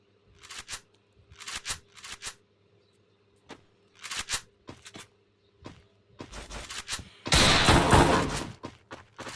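Video game gunfire from an MP5 submachine gun, heard as several short bursts separated by pauses, then one longer, louder sustained burst, all close and loud with no talking.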